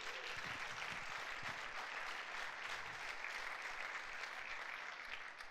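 Sustained applause from a church congregation for Jesus, a dense steady wash of many hands clapping together, fairly loud and even throughout with no break.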